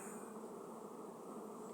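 Carniolan honey bees buzz at their hive, a dense, continuous drone held close and steady throughout.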